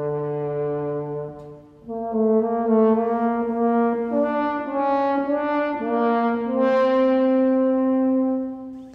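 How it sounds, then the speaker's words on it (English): A single French horn plays the menacing wolf theme from Peter and the Wolf, a slow sustained melody of several held notes, loud and close, with no talk over it. "Now that was the sound of one French horn,"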